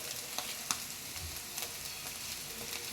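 Curry leaves dropped into hot oil, frying in a pan with a steady, fairly quiet sizzle and a few brief crackling pops, no voices.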